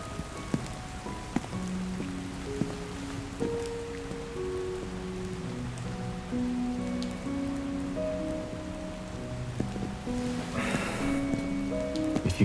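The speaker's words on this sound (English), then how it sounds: "we're going to be completely soaked in the rain" Steady rain patters on a surface throughout in a video game, with a gentle melodic tune playing softly over the downpour.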